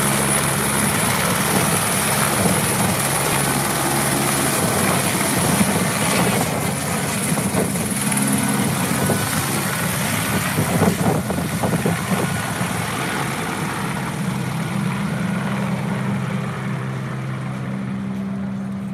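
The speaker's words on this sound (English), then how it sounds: "Ava Sophie and I were there when they were doing some demo of the RECO detection system, the helicopter detector." A helicopter flies with a RECO avalanche detection system slung beneath it as an external load, its steady rotor and engine drone loud and continuous throughout, with no voices.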